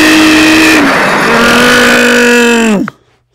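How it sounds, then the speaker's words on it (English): A car engine revs loud and close with a rising, steady whine, then cuts off abruptly in a sharp stop, followed by near silence. "You crashed your car into my house?"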